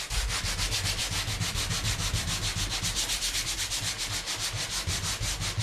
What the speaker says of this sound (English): And give that a really good sand.